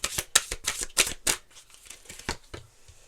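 Tarot cards are shuffled in a short series of close, crisp riffling flicks, strongest at first and then tapering into a few softer taps.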